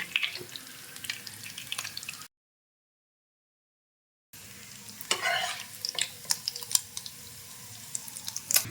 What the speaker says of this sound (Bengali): আমি বাকি চিকেনগুলো ভেজে নিব